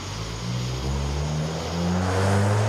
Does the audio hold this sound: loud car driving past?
yes